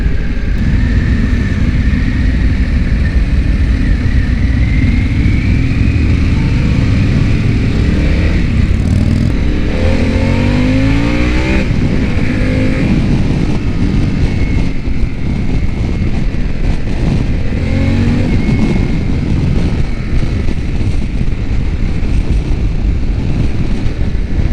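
A 2022 Harley-Davidson Pan America motorcycle ridden on the road: a loud, steady engine drone buried under heavy, continuous wind rush across the microphone, with no voices.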